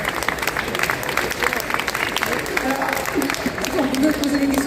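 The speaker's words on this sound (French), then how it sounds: "je pense qu'on peut les applaudir" An audience at an industry fair applauds speakers in dense, continuous clapping, with a voice talking over the applause toward the end.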